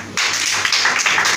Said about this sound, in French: Est-ce qu'on peut acclamer pour nos mamans?